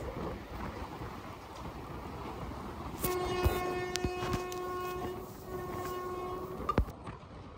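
Kacheguda–Chengalpattu Express train passing close by, a loud steady rumble of wheels on rails with a sustained horn blast and sharp clanks, ending abruptly.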